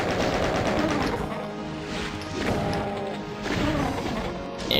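Chain gun fire at explosive barrels in Doom's Back to Saturn X, a dense, loud run of rapid shots and crashing blasts with surges of impact noise throughout.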